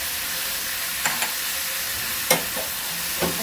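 Spice paste is sautéed in a pan for a shrimp, papaya and potato curry, a steady soft sizzle with a few brief scraping stirs of the spoon at irregular moments.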